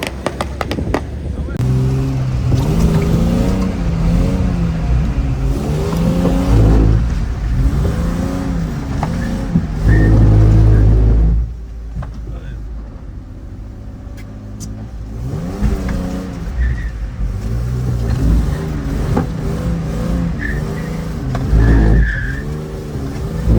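A powerful car, called a missile, revs loudly and skids at a French driving event, with engine roar and tire noise filling most of the clip and a short quieter gap in the middle.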